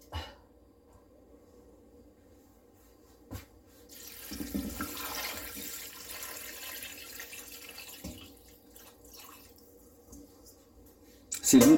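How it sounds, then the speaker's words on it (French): Water pours into a pot holding soaked flageolet beans, a soft steady splashing and gurgling stream that swells in the middle and then tapers off, with a few faint clunks around it. "Et on va ajouter de l'eau."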